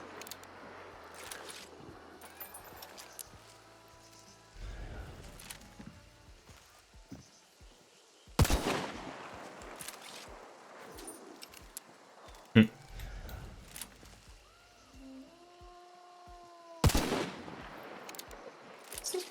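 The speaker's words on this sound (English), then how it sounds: "What's this person even shooting at?" Sporadic gunfire in an online bounty-match shooter game: a few sharp, loud shots and bursts spread across the stretch with quieter gaps between them, set against faint background game ambience and scattered clicks.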